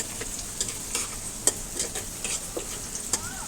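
Onions frying in a pan alongside beef for a home-cooked meal, giving a steady sizzle with faint stirring clicks and scrapes throughout, close and fairly quiet, with no talking.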